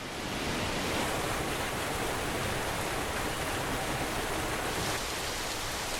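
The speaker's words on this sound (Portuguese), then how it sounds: "A cachoeira New Woodsville fica mais agressiva depois das chuvas de inverno." The New Woodsville waterfall in northern Namaqualand, Africa, running strongly after winter rains, a loud, dense, continuous roar of rushing water with no breaks or voices.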